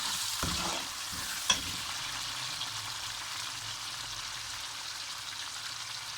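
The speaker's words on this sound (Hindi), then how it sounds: "लहसुन मैंने डाल दिया, अब मैं हरी मिर्चें भी इसमें डालने जा रही हूँ।" Garlic and green chilies sizzle steadily in hot masala as a chickpea curry cooks, a dense continuous frying hiss with a couple of brief stirring knocks near the start.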